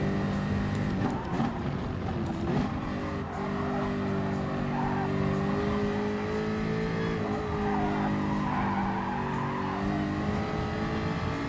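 Race car engine in the Gran Turismo Sport video game, a loud continuous revving drone with shifting pitch through gear changes and tire squeal mixed in, close and steady throughout.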